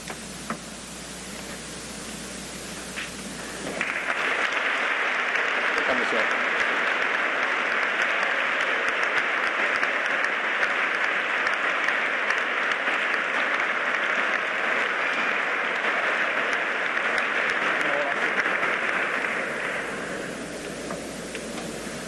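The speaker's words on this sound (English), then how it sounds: "Please join me in one more round of applause for Secretary Pompeo." Sustained audience applause from the South Carolina Corps of Cadets at The Citadel honoring Secretary Pompeo, a dense wash of many hands clapping that swells in after a few seconds of quiet, holds steady and loud, then fades near the end.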